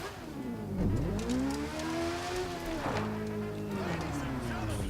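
Game engine audio of a BMW S1000RR sport motorcycle in the racing game The Crew 2, a steady high-revving whine that rises and dips through gear changes, with someone talking over it.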